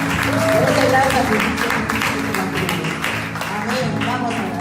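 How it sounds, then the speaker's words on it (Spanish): Church congregation applauding during a worship service, a fairly loud wash of clapping mixed with voices and a sustained musical tone underneath. "¿Cuántos podemos darle un aplauso a Cristo?"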